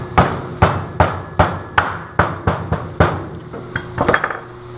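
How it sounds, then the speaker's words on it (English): A hammer taps a bushing into a RZR high-clearance rear A-arm with about a dozen sharp, ringing metallic strikes at a steady pace, close by, ending in a few quicker lighter knocks. "Again, just gently tap this into place."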